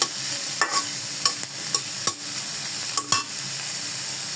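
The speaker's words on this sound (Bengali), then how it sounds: "এবার এগুলোকে হচ্ছে গোল্ডেন ব্রাউন হওয়া পর্যন্ত ভেজে নেব ভালো করে" Onions frying in hot oil with a steady sizzle, broken by several distinct stirring scrapes and clinks of a spoon against the pan, close up and with no voices.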